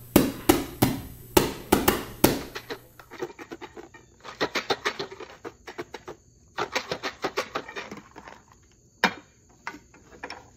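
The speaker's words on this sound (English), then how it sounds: "this is what the drum sounds like" A homemade drum struck in a quick burst of loud, sharp hits, followed by lighter irregular tapping and rattling patters with short pauses, close and dry, with no voices.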